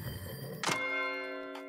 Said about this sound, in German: Das ist die Glocke zur Sechst.